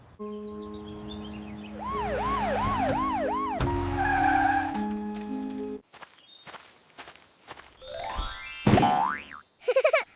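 A wailing emergency siren rises and falls in sweeping tones, interrupted by bouncy cartoon boings and clattering bursts, loud and close.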